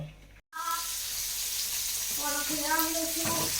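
Crackling sizzle of marinated fish frying in hot oil, a continuous hiss after a brief silence, with faint tonal sounds like a voice or clatter in the background.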